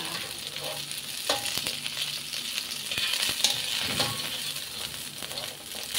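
Okra frying in a pan, a steady close sizzle with occasional stirring clinks and scrapes, no voices.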